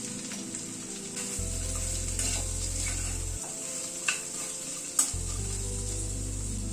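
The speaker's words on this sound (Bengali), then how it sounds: "গাজর আর বিনসটাকে আগে একটুখানি মশলার সাথে একটু হালকা একটুখানি নাড়াচাড়া করে নেব" Carrots and beans are stirred with spices in a hot pan, giving a steady sizzle with scraping strokes and a couple of sharp clanks near the end, over an intermittent low hum, with no talking.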